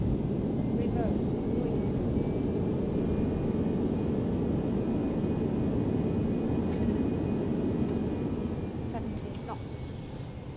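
Airbus A319 jet engines in reverse thrust on a landing rollout, flight-simulated, a steady loud broadband roar that holds through most of the stretch and eases slightly toward the end, with faint high whines above.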